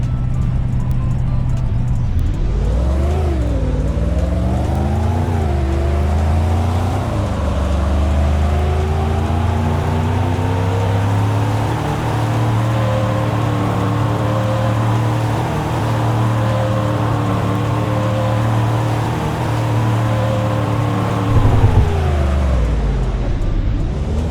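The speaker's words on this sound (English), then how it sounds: "I can show you guys the true meaning of quick for a classic car from 1972" A 1972 classic car revs and pulls away hard, its engine note rising and falling through several gear changes, then holding a loud, steady drone close by. It stays loud throughout, with no talking over it.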